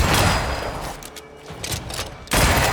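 Gunfire in the video game Banishers: Ghosts of New Eden during an attack on a fort: a dense burst of shots opens the clip, a quieter stretch with scattered cracks follows, and another loud blast lands near the end.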